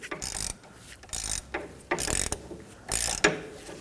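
A ratchet with a 17mm socket loosens caliper bracket bolts on a 2011-2016 Kia Optima during a front brake caliper replacement. Four short, close bursts of rapid clicking are separated by brief pauses.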